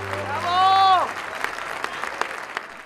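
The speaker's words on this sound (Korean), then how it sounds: "그라시아스 합창단의 공연에 목회자들은 기뻐하고 환호하며 앙코르를 연호했다." An audience of pastors applauding and cheering a Gracias Choir performance: a dense patter of clapping that fills the clip, following a brief tonal vocal sound at the start.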